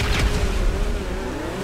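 A race car launches with a rocket start in GTA racing. A steady, rising engine drone is heard at close range, with no talking over it.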